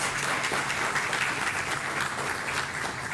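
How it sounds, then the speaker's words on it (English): A full audience applauds the 10-years-of-service honorees at an employee recognition ceremony, a dense, steady round of clapping that fills the room throughout without a break. "if you join me in a round of applause for our 10 years of service honorees"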